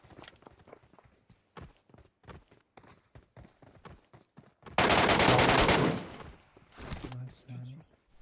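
Video game gunfire in a shooter match: a loud sustained burst of automatic fire lasts about a second, followed by shorter bursts, preceded by scattered footstep-like clicks and taps with game sounds in the background.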